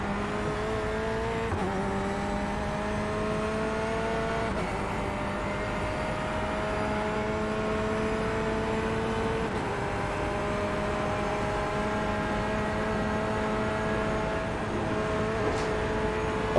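Corvette C8 race car engine in iRacing driving on a baseline setup, a steady loud engine drone with harmonic tones that drop sharply at gear shifts around two, four and a half and nine and a half seconds, then climb again.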